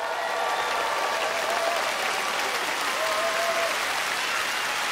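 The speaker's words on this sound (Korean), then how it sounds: "여러분 따뜻한 환영의 박수 보내주시면 고맙겠습니다" Audience applause welcoming a county governor at an outdoor KBS open-air music concert festival, a steady, dense wash of clapping from a large crowd that holds even and loud from start to finish.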